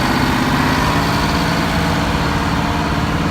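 A vintage prairie tractor engine runs steadily at a parade, a loud, continuous low rumble holding an even throb with no talking.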